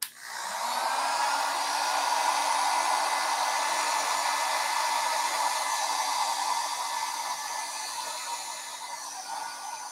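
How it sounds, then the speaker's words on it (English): A heat tool blowing hot air over alcohol ink, a steady loud whooshing fan drone with a faint whine that starts abruptly and runs continuously, close and alone. "I am doing the heat tool on the side of the alcohol ink that I want to move around"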